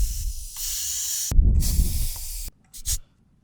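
Compressed air hisses loudly as hoses from a four-way deflate and inflate system connect to tire valves, in several sharp bursts broken by short pauses and one brief puff near the end.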